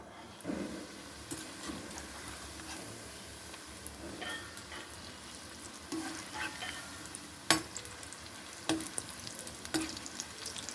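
A batch of food frying in hot oil over a high flame gives a steady, close sizzle, with scattered sharp clicks and taps of stirring and turning throughout and no talking.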